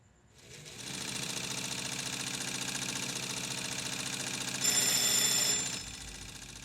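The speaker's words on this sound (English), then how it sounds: "There was a deliberate callback to a beautiful sewing montage that Peter Gould did in an earlier season with Nacho sewing and cutting himself." Sewing machine stitching in a scene from Better Call Saul, a steady close mechanical whir with rapid rhythmic clatter running continuously for several seconds, briefly louder near the end.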